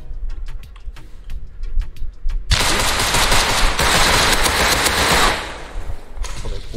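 Gunshots in the video game Rust: a few sharp ticking clicks give way to a loud, dense burst of rapid automatic fire lasting a few seconds, close and harsh, then fading out.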